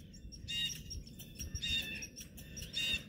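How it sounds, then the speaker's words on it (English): Sharp, harsh blue jay screeches ring out in repeated bursts over a low outdoor rumble on a sheep farm, moderately distant. "The birds are out screeching. Those are the blue jays that are making all that noise."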